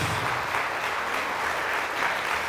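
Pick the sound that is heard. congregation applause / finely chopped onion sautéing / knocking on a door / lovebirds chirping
congregation applause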